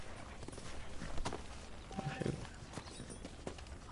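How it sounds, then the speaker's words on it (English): A horse's hooves clip-clop in a slow, irregular walking rhythm, faint and somewhat distant under low ambient noise. "I'll hitch this horse, alright."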